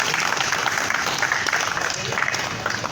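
A crowd claps steadily at a pigeon flying club prize ceremony in Gawalmandi, Lahore, a dense, continuous patter with voices mixed in.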